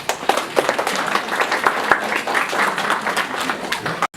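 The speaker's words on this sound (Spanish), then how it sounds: "Un aplauso para el profesor Rodríguez." A small gathering at an intercultural health training event claps for a professor, irregular individual claps spread unevenly and fairly close, thinner than a full ovation, ending abruptly.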